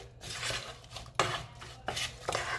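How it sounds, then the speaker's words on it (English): Apples and water being stirred in a cooking pot for apple pie filling, with scraping, clinking strokes of a utensil against the pot in several bursts over a low steady hum. "So we are going to give that a stir"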